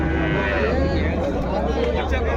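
Calves at a cattle market in Punganur moo in long, low, drawn-out calls, close and fairly loud, with a murmur of voices in the background.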